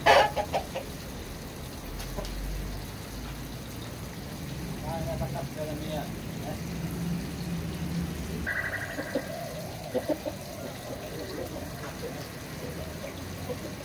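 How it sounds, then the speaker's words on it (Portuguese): A young Indian fighting chicken (frango índio combatente) clucks amid other fowl in a yard, with brief rooster-like calls over someone speaking Portuguese. "Esse aí é o franguinho aí."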